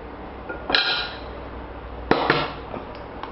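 Egg cracked on a rim and dropped into a dish for baked flamenco-style eggs, giving two sharp clinking knocks about a second apart with a faint ringing tail, close and fairly quiet, with no talk.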